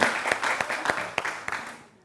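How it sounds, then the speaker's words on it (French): Brief burst of audience applause during a church talk on couples and sexuality, a few sharp claps standing out before the sound fades away. "ça s'applaudit"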